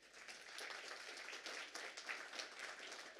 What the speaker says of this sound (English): maybe a round of applause to Nikki.